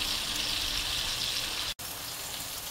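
Fish frying in a pan of oil, a steady close hiss of bright sizzling broken by one brief dropout, with no speech.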